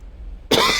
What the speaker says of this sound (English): you're just going to get the coughs through the outro